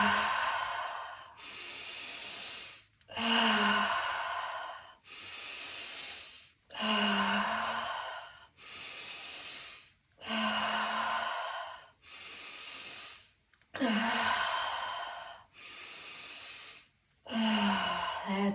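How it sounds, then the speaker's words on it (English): Deep, forceful breathing during a breathwork exercise: about nine long, even inhale-exhale cycles, each a loud airy rush separated by brief pauses, close and clear with no talk. "Hyper-oxygenating the body as you breathe."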